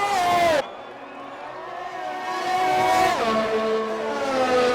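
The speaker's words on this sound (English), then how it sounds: "And as he comes onto the start-finish straight, Cox is set to begin another hot lap here." Formula 1 race car engine at high revs on the start-finish straight of a Spanish Grand Prix, a loud sustained whine that drops at a gear change, then climbs steadily again, with race commentary talking over it.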